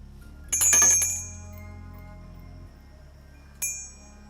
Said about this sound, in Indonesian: Ada suara terus-terusan ketika aku membunyikan lonceng